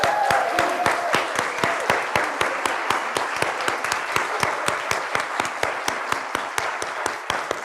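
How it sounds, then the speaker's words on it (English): An audience gives a choir a round of applause, with steady, evenly paced clapping that carries on without a break at moderate volume. "Shall we give them a round of applause?"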